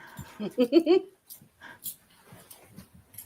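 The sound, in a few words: dog whimpering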